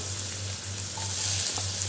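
Radish pieces dropped among potatoes already frying red in a pan for a Bengali pui shak and prawn chorchori, giving a steady broad sizzle with a low hum underneath, close and even, with no talk.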